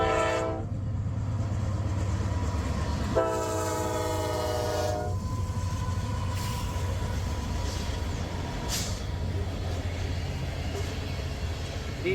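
Norfolk Southern freight train 64K carrying ethanol loads rumbles past nearby with a continuous heavy roar, broken early by two loud horn blasts, then steady wagon noise and faint clanks.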